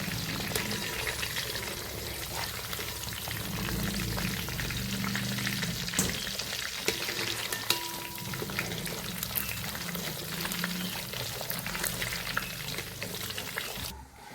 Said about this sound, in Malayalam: നമ്മുടെ ബീഫെല്ലാം വറുത്ത് ഞാൻ എന്നിട്ട് ആ എണ്ണ കുറച്ച് എടുത്തുള്ളേ.